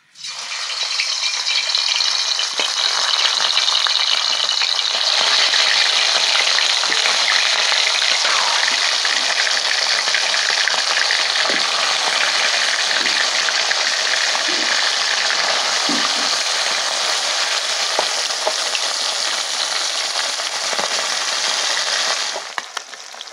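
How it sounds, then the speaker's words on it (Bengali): Small fish frying in hot mustard oil in a kadai give a loud, steady, dense sizzle with faint crackles and occasional spatter, continuous for over twenty seconds with no talking. "চলুন, তেল তো গরম হয়ে গেছে, এবার মাছগুলো ভেজে নিই"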